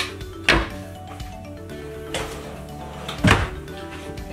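Real wood cabinet doors inside a 2017 Sundowner 48-foot toy hauler opening and closing, with three distinct wooden thunks spaced apart at close range in a quiet interior.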